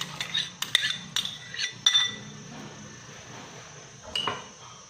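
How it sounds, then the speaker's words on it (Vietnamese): A spoon stirs a milk mixture in a bowl to dissolve it for sweet coffee bread dough, with bright clinks of metal on the bowl in quick bursts, then a quieter stretch and one last clink. "Khuấy cho nó tan ra."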